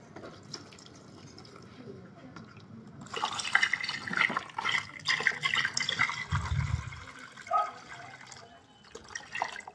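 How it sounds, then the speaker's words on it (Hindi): Water poured onto cocopeat in a hydroponics setup, splashing and trickling in uneven bursts close by, with a low gurgle partway through and quieter dripping between pours. "इसके ऊपर हल्का सा पानी डालकर चालू करेंगे।"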